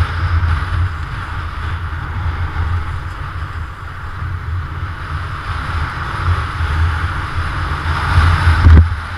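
Strong wind blowing on a road in winter, roaring continuously into the microphone with a heavy low rumble and gusty buffeting throughout, loud and unbroken, a brief louder gust near the end.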